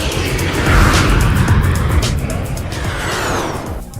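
An airliner takes off at Minneapolis St. Paul International Airport in winter, a loud broad roar that swells and then fades over a few seconds.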